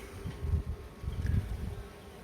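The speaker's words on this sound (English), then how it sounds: "Queen was in that cluster of bees." Honeybees buzz steadily up close during a beehive relocation, a low droning hum that swells and fades in waves with no voices.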